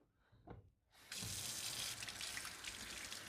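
Tap water starts running from a faucet after a quiet moment and a small clunk, then flows in a steady, close hiss, used to pre-wet the mopping pads of a 360 C50 robot vacuum.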